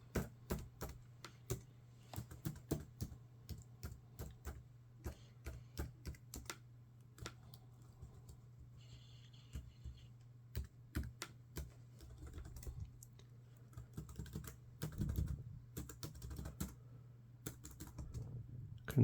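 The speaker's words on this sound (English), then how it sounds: "Let's check the keyboard" Someone types on the keyboard of an old Dell laptop, producing quiet, irregular clusters of plastic key clicks and taps over a low steady electrical hum, with short pauses between bursts.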